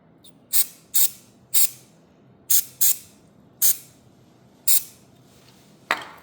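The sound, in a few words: silicone spray being sprayed on a lock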